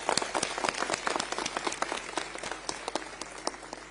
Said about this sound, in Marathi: आमच्या महिला भगिनींच्या स्वाभिमानासाठी जोरदार टाळ्या वाजवल्या पाहिजेत.